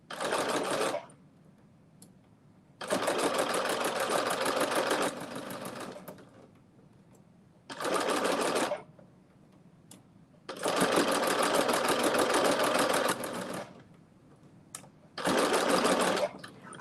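A sewing machine with a ruffler foot sews ruffled pants in bursts of rapid, even stitching, five runs of varying length separated by quiet pauses, close and clear.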